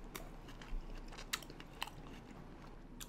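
Chewing on a thick cube of cumin-spiced steak, with close, soft mouth sounds and a few sharp crunchy bites standing out over about three seconds.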